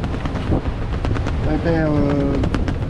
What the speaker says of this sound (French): 30 nœuds devant, il y a des rafales à 35